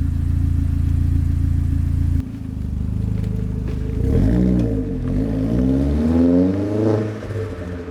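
A Vauxhall Astra VXR's petrol engine idles steadily up close, a low even hum that later shifts and wavers as the engine note changes.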